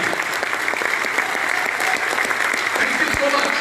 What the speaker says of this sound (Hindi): मेरे ख्याल से जोरदार तालियां इन सब लोगों के लिए।